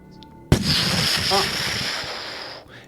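A sudden loud explosion booms in a tabletop role-playing game session, followed by a long rumbling, hissing decay lasting a couple of seconds before fading.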